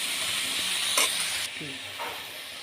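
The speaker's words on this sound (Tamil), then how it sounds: "நல்லா எண்ணெயில் வதக்கிடணும் நல்லா எண்ணெயில் வதக்கணும்" Onions, coriander and other herbs sautéing in oil in a pan, a steady close sizzle and hiss with a few soft stirring scrapes.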